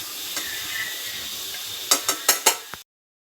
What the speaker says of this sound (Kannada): ಹಾಗೆ ಇದಕ್ಕೆ ಆಯಿಲ್ ಹಾಕ್ಕೊಂಡು ಈರುಳ್ಳಿ ಹಾಕ್ಕೊತಾ ಇದ್ದೀನಿ